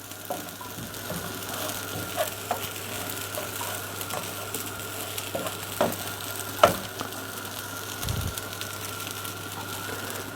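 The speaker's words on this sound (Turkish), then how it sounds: "Şöyle domatesini de döktük." Tomatoes poured into a pan sizzle while cooking bulgur pilaf with mint, a steady low frying hiss with occasional clicks and stirring scrapes throughout.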